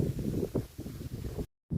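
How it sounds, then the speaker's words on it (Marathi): Wind gusting through a guava orchard, buffeting the microphone in a low, steady rumble for over a second before a brief dropout and a return of the rushing noise. "छान वारं सुटलंय"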